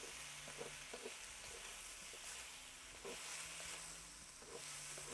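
Eggplant and garlic cook in a seasoned wok held just above the burner, giving a quiet, steady sizzle with faint clinks and scrapes of stirring and a low hum beneath, with no one talking.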